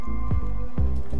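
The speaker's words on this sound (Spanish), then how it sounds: "voy a ir bebiendo un poco de agua" Drinking water in the survival game Raft: two short watery gulping squishes, close and clear, over a steady low hum of game ambience.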